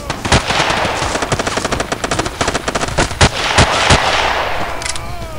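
Gunfire in the video game Battlefield 2 Special Forces, with a rapid, loud burst of automatic fire broken by several heavier single shots, all close and dense throughout.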